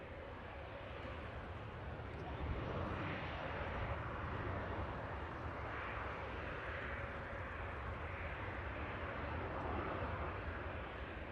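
An EasyJet airliner climbing out from the south runway at Manchester Airport, a distant, steady broadband jet roar that swells and eases slightly over several seconds in open air.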